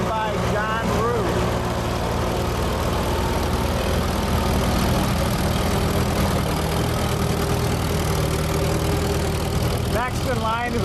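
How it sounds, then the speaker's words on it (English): A 1940 International Harvester Model M antique tractor pulling a three-bottom Oliver plow runs with a steady low engine drone, continuous and fairly close, while someone speaks over it. "Next in line is a 1940 Model M International"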